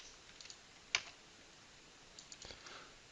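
Typing on a computer keyboard, a few faint scattered key clicks with one sharper tap, quiet and close in a still room, no talking.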